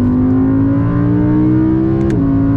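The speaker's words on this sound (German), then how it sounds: "Motor ist fast explodiert." Audi R8 engine in a driving video game, a loud sustained rev that climbs steadily in pitch with a brief hitch near the end like a gear change, with no speech over it.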